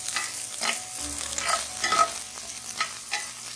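Chopped green chili and ginger frying in a pan while being stirred, with soft sizzling under repeated scraping strokes of a spoon at an uneven rhythm, close and fairly quiet.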